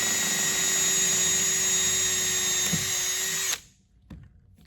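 A power drill whines steadily and loudly up close while boring holes for racecar cam lock fasteners, then cuts off abruptly, followed by a short knock and quiet.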